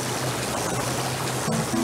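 Water rushes and trickles steadily in a cartoon as a leak floods in, a continuous close splashing wash.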